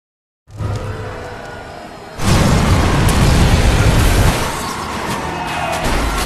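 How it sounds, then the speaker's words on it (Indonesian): After a low rumbling lead-in, a loud explosion erupts outside a window in a Korean film about a deadly flu virus, a sudden heavy boom that rolls on as a sustained roar before easing slightly. "Tiba-tiba, terdengar ledakan keras dari luar jendela."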